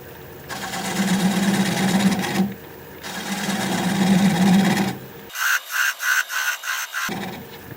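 A swept-back gouge cuts into a spinning maple bowl on a lathe in two sustained, rasping passes, followed by a burst of rapid rhythmic pulsing; close and fairly loud, with no voices.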